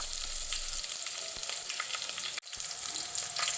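Onions frying in oil for a Kannada mosappu saru, a steady loud sizzle throughout with a few stirring scrapes and a brief dip near the end, with no talking.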